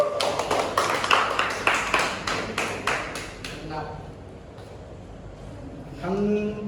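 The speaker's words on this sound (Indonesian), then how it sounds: "tepuk tangan untuk Warkasana" Classroom applause during a teaching practice session, a burst of brisk clapping from a group that fades after a few seconds, followed by quieter room noise and a voice speaking near the end.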